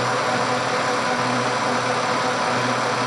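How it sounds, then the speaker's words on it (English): KERN Mustang 4 pipe threading machine running, a steady, loud motor hum with mechanical vibration and no talk over it. "So we'll start the machine, make sure we have an oil flow."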